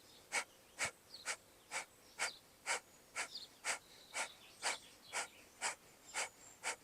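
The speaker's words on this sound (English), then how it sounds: "you're breathing out really quickly through your nose" Breath of fire yoga breathing: about fourteen rapid, forceful exhales through the nose, each a short, sharp puff, come at a quick, even rhythm, close and clear, with no talking.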